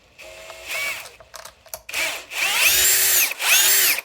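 Power screwdriver backing screws out of the rear of a Redcat Valkyrie RC car, running in several close bursts of rising and falling whine with short pauses and faint clicks between them.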